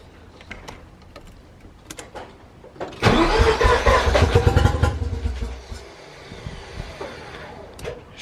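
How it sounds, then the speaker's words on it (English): A right-hand-drive Mazda RX-7 FC rotary engine cranks over with a few quiet starter bursts, then catches and fires loudly into a rough, busy run before settling to a lower, steadier idle. "Let's crank her over."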